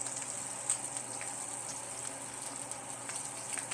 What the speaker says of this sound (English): So we'll let this sear itself off.